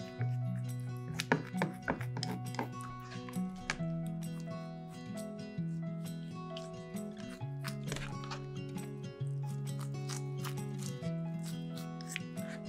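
Scissors snipping frozen yong tau foo ingredients in a kitchen, a series of sharp irregular cuts and clicks over steady background music.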